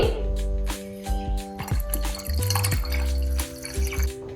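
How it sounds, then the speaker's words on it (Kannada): Boiled and cooled water is poured into a homemade wine mixture, a steady close liquid pour with gurgling, bubbling tones that shift in pitch as the container fills, loud and continuous throughout. "ಇದನ್ನ ಅಷ್ಟು 1 ಲೀಟರ್ ನೀರ್ನ ಯೂಸ್ ಮಾಡ್ತಾ ಇದ್ದೀನಿ"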